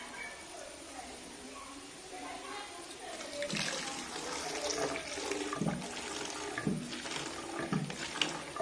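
Homemade diluted bathroom floor cleaning lotion is poured slowly into bottles, making a gurgling, splashing flow that grows louder and busier midway through, with a faint voice underneath.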